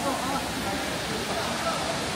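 A waterfall at a busy scenic rest stop in China sends out a steady, close, broadband rush of falling water that fills the whole stretch without a break, with a faint murmur of voices beneath it.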